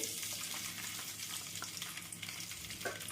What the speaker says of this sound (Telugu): మన నూనె వేడైంది దీంట్లోకి ఒక ఉల్లిపాయ ఒక రెండు పచ్చిమిర్చి కట్ చేసుకొని వేసుకోండి